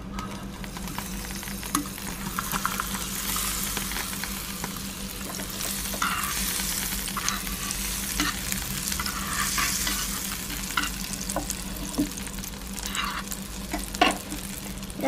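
Butter sizzles in a hot pan for a five-minute banana cake, a continuous crackling fry with scattered pops and light stirring scrapes, no voices.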